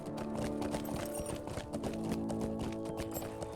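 Horse hooves clip-clop steadily in the online game Lord of the Rings Online, a loud, continuous rhythmic trot with a dense layer of game music and ambience underneath.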